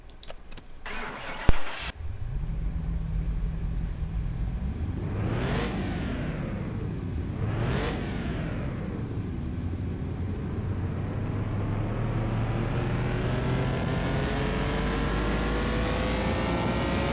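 A car engine in Car Mechanic Simulator 2021 cranks and catches, then revs on a dyno in two sharp rising-and-falling sweeps before climbing into one long, steady high-rpm pull. It is loud and continuous, with no talk over it.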